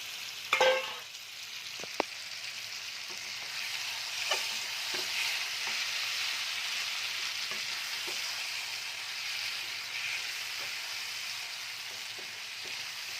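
Pointed gourds drop into hot spiced oil with an initial burst of crackling, then settle into a steady gentle sizzle dotted with occasional pops and stirring clicks.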